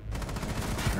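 Rapid automatic gunfire from a Rainbow Six Siege match, a dense, loud burst of shots firing continuously throughout with no talk over it.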